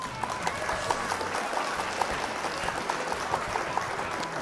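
Applause for the opposing player after the final match of a card-game session, a steady patter of clapping with sharp claps standing out, moderately close, carrying on for the whole stretch under a faint background murmur.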